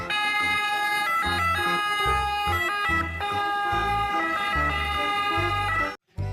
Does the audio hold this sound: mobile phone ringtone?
no